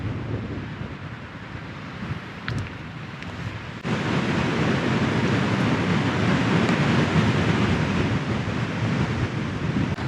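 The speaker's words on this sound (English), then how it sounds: "That wind's picking up quite a bit now." Strong wind blows outside a mountain hut at night, a constant broadband roar buffeting the microphone that jumps noticeably louder partway through and stays heavy.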